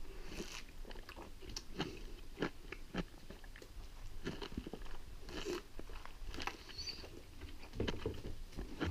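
Someone eating an Israeli specialty food, with close, wet chewing and crunchy bites repeating irregularly over several seconds and no talk.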